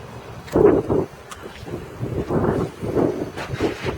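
Gusty outdoor wind buffeting a microphone in uneven bursts, rumbling low and loud, with no voices, during a test of Bosch GLL 3-80 laser levels.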